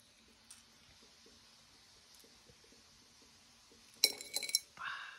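Wine glasses clink together in a toast: a few bright, ringing glass taps in quick succession after a quiet stretch of faint ticking, then a softer brush of sound.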